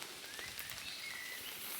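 Steady rain patters on a tarp stretched over a campfire, a continuous hiss with faint crackles and a few soft bird chirps in the background.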